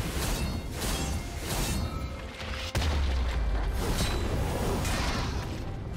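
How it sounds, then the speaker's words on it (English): A turret is destroyed in League of Legends: a sudden deep boom lands midway through a dense wash of game effects and whooshing, then a low rumble lingers under the continuing noisy battle. "Red team's turret has been destroyed."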